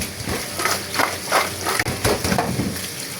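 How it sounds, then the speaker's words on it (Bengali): Potatoes are washed in a kitchen, with rhythmic swishing and splashing of water as they are rubbed and turned, close and moderately loud. "আলুগুলো ধুয়ে নিচ্ছি।"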